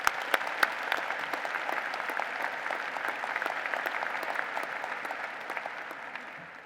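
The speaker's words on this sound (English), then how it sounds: "Please join me in a round of applause in recognition of our graduate students." Crowd at a Virginia Tech fall commencement ceremony applauding graduate students, a broad, even roll of many hands with crisp individual claps, holding steady before easing off at the end.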